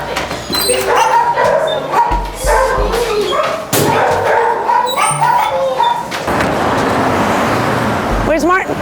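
Dogs barking and yipping at a rescue pickup on a street corner, with traffic noise nearby; short barks recur under and between ongoing talk.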